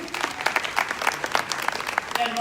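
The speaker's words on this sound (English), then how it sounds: "Give her a round of applause, please" Conference audience applauding a speaker: a close, lively burst of many hands clapping at once, irregular and dense, with a brief tonal squeal near the end.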